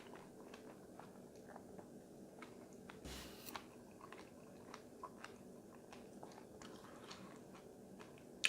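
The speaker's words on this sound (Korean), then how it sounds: "메이플 시럽을 감아서 한번 먹어보겠습니다" Close, quiet chewing of strawberries dipped in maple syrup, soft wet bites and squishy crunches repeating at an irregular pace in a still room.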